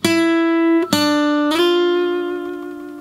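Electric guitar plays the opening lick of the solo from a song, three clear sustained notes picked in turn with the last one ringing out, close and alone.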